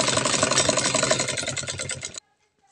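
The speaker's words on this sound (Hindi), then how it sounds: "इस पर हमने सीधी सिलाई लगा दिए हैं।" A sewing machine runs a straight stitch through salwar cloth while a pocket is attached, giving a steady, loud, rapid mechanical whirr for about two seconds before it stops abruptly.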